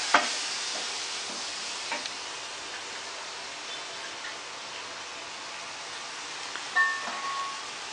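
Pasta hash frying in a pan gives a soft, steady hiss, with occasional faint knocks and scrapes as it is stirred, and no voices over it.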